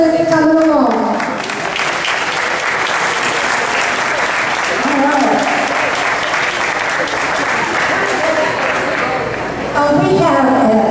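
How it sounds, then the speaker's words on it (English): A family reunion crowd breaks into loud, sustained applause, dense clapping filling the room, with voices talking over it at the start and again as it ends. "Big round of applause for the next group coming along."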